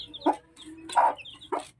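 Rhode Island crossbreed chicks cheep in high, thin peeps while a native hen clucks low and close by in three soft, evenly spaced bursts.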